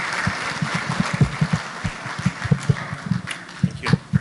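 Audience applause following a live musical performance at an event: scattered, uneven claps with distinct individual hand strikes, moderately loud and fairly close, no voices over it.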